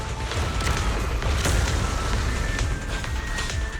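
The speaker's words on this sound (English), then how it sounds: "Mortars!" Mortar shells in Zenless Zone Zero explode as dense, continuous rumbling booms with a few sharper thuds, loud and close, layered over busy battle noise with no talk.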